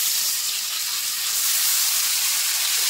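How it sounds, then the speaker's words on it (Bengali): Bitter gourd and lightly browned potatoes fry in hot oil for a small fish curry, giving a steady, close, unbroken sizzle and hiss with no talking. "উচ্ছে দিয়ে একটু ভেজে নেব।"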